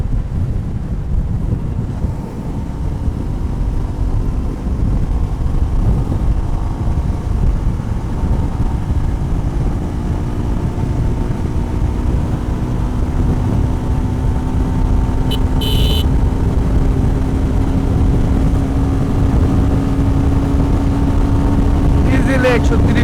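A modified Suzuki Gixxer 250 motorcycle runs at high speed on a test ride near Mawa. A steady engine drone sits under heavy, constant wind buffeting throughout.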